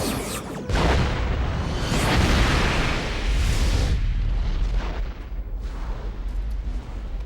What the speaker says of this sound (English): Mr. Worf, quantum torpedoes.